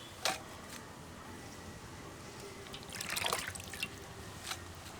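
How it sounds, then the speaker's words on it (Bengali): Soaked jute leaves lifted from water, with a soft trickle and scattered drips falling back into a bowl, faint and close, with a brief splashy burst in the middle. "পাট শাকগুলোকে আমি জলের মধ্যে রেখে দিয়েছিলাম, এবার তুলে নেব। জলটা একটু ঝরিয়ে নেব।"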